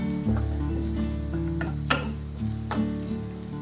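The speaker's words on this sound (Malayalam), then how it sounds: "ഇതെല്ലാം കൂടെ പച്ചമണം മാറുന്നവരെ ഒന്ന് വഴറ്റി കൊടുക്കാം." Spice powders sautéing in a pan for chicken kondattam, a close sizzle with a few sharp stirring clicks and scrapes over a tonal background, no talk.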